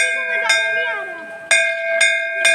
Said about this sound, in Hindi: घंटी बजा। जय हो माता।